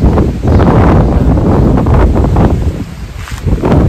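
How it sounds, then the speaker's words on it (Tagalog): Strong wind roars and buffets the microphone in a continuous loud rush, broken only by a brief lull, heard from inside during a road trip to Calgary with no talk. "Ang lakas ng hangin kasi."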